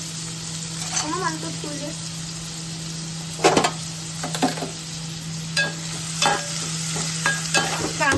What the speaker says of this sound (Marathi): कढीपत्ता टाकलाय, मिरची टाकली आहे, कांदा टाकताय.